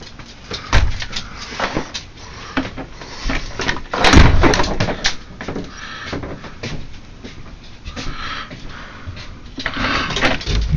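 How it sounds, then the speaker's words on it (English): A door is closed amid snowy outdoor clatter, with a series of loud bangs and scraping knocks near at hand, the strongest around the middle, and no clear talk. "close the door."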